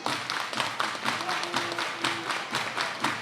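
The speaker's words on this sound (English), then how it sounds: "Everybody clap your hands." A baseball crowd at an Appy League game claps in a steady rhythmic beat, loud and sustained throughout, with a faint tone held briefly over it.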